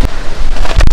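Strong stormy wind in Chitwan, Nepal, roars into the microphone near trees: a loud, continuous buffeting rumble with gusty surges that nearly drowns everything else.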